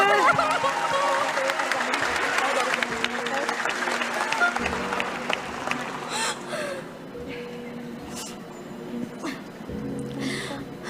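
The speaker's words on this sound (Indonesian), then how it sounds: "ayo kita kasih tepuk tangan dulu untuk Dinda" An audience applauding at a public discussion event, steady full clapping for about five seconds that thins to scattered claps, with murmurs, light laughter and talking as it fades.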